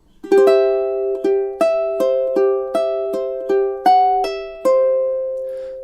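A ukulele played fingerstyle runs through two measures of a gentle song, a steady series of plucked notes and chord tones ringing clearly and closely with no voices.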